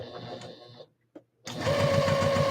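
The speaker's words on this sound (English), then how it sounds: "Moving things out of the way as you sew." A sewing machine stitches the side seams of a piece. A short run of stitching is followed by a brief pause and a single click, then a steady, faster whirring run with a sustained motor tone.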